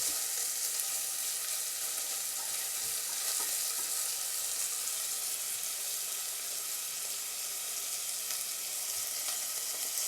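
A quinoa dish sautés in a pan with a steady, soft frying sizzle and faint stirring scrapes, evenly hissing throughout with no voices.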